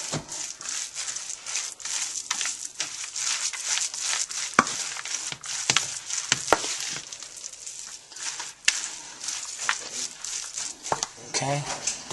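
A meat mixture for Filipino embutido being hand-mixed with all-in-one seasoning granules: steady wet squelching and light clicks of a bowl, close and moderately loud, under a speaking voice.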